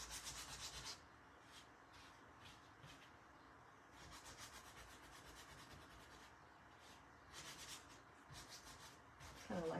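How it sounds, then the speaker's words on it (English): Sandpaper rubs in steady back-and-forth strokes over a small wooden Halloween ghost craft piece, close and quiet, with brief pauses between bursts of sanding. "but I'm going to sand that down there too"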